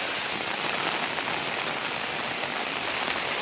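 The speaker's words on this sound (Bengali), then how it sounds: "বৃষ্টি কেমন হয়েছে" Steady rain pours down as a dense, even hiss of drops on surfaces, loud and close throughout, at a shelter settlement with no voices heard.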